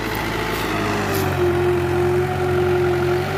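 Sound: New Holland 7500 tractor engine straining

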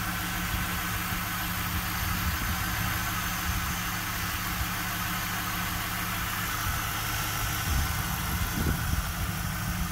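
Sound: 1998 Pontiac Trans Am WS6 engine idling

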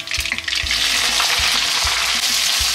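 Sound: mustard seeds and chopped onion frying in hot oil

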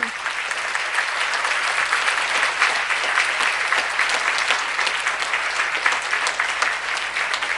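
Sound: audience applause at a kirtan event

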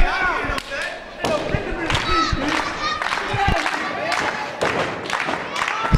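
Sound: wrestling crowd cheering

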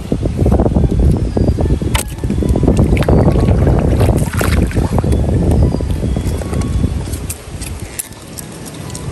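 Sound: strong wind

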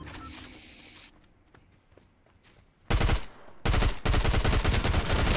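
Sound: gunfire in Fortnite video game

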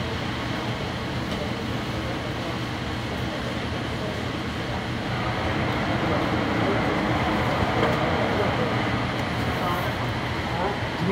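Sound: AirTrain JFK train running

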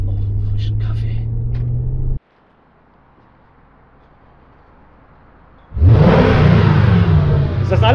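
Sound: AMG car engine driving off

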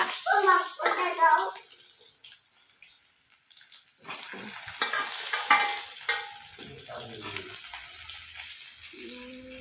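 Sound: okra frying in a pan

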